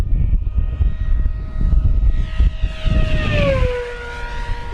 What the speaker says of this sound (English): Coming in hot, Steve, full throttle.